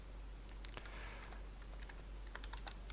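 Quiet keystrokes patter on a computer keyboard as a ChatGPT prompt is written, irregular clicks in short bursts over a faint steady hum.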